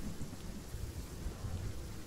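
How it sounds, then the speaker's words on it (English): Storm sound in the Fortnite video game: a continuous low rumble with rain-like hiss, steady and fairly quiet throughout, with no talking. "I love how the storm sounds now too."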